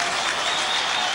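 Crowd at a rugby league Challenge Cup match between Huddersfield Giants and Catalans applauding a Giants penalty, a brief burst of dense, loud clapping filling the stadium.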